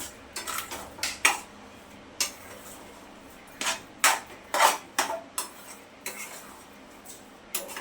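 A spoon scraping and clinking against a pan while mango sheera ingredients are stirred together, sharp metallic knocks coming in irregular bursts close up, with no voices.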